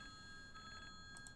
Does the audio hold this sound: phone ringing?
yes